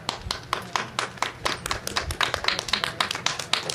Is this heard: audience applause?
yes